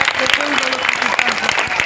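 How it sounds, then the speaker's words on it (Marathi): An audience claps loudly at a Mahashivratri festival event featuring a demonstration of Shivaji-era weapons. The dense burst of applause lasts under two seconds, with a voice speaking over it. "यांच्यासाठी देखील जोरदार टाळ्या"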